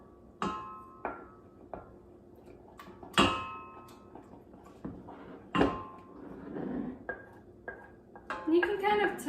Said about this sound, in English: So we're just kind of mixing it until the flour gets well mixed in.